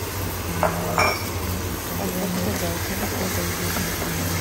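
Spiced chicken for biryani stirred in a pot, a couple of clinks of a utensil against the metal early on, then steady soft scraping and stirring under a low background hum.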